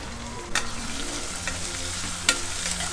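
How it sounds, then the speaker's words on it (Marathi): Ginger-garlic paste and onion sizzle steadily in hot oil for a dhaba-style mushroom masala, a continuous close frying hiss with a couple of sharp spoon scrapes and stirring clinks. "तेल तापले, हे आलं आणि लसूणची पेस्ट टाकायची। नंतर कांदा टाकायचा।"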